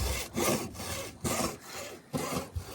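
A Harbor Freight windshield removal tool cuts through a vehicle windshield, giving rhythmic rasping, sawing strokes, about five close, loud pulls with short gaps between them and no talking.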